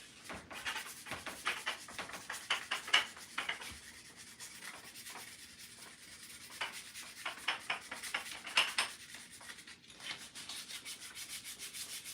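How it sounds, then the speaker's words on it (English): Higher-grit sandpaper rubs across stained wooden handles in repeated back-and-forth strokes, a soft raspy scratching with an uneven rhythm and short pauses, close and fairly quiet, with no talking. "Let me get a higher grit sandpaper."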